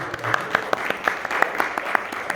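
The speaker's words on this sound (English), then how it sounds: "give him a round of applause" Light, scattered applause from a small audience at a leadership interview event, a quick run of separate claps at moderate volume lasting a couple of seconds.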